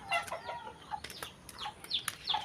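Farm chickens cluck in a string of short, fairly close calls over a quiet background, with no talking.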